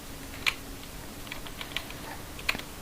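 Keys pressed on a computer keyboard, a few sparse, crisp clicks spaced out over a couple of seconds with two sharper, louder key strikes, close and alone.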